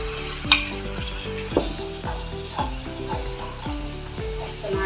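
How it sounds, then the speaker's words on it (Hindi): Tomato paste fries with ginger and garlic for chicken tikka masala, a continuous sizzle under a few sharp stirring knocks. A steady pitched tone runs through it as well. "टमाटर डाल के भूनेंगे 2 मिनट।"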